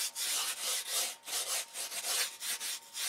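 Sandpaper rubbed back and forth on a wooden stabilizer of an electric control-line Thunderbolt model aircraft to remove a pen line, a close, rhythmic rasping of quick strokes with no voices.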